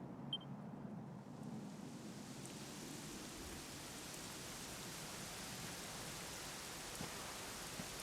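Steady rain in the video game Dragon Quest XI pours down in a constant soft hiss, even and unbroken throughout, with a faint low rumble beneath.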